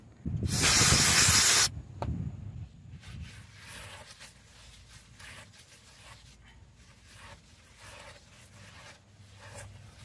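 Starter fluid, used in place of brake cleaner, sprays in one loud, steady hissing burst of over a second onto front wheel hub parts of a Ford E-series van during a bearing job, followed by quiet shop ambience.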